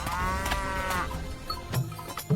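An old buffalo lets out a single drawn-out, loud moo, with a shorter low grunt following near the end.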